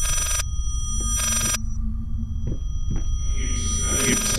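A phone in the horror video game Layers of Fear gives an odd, distorted ring in loud repeated bursts, broken by gaps of low throbbing hum.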